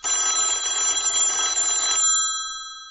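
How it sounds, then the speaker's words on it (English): A cell phone rings with a steady electronic tone for about two seconds, close and clear, then cuts off into silence. "Your cell phone's ringing."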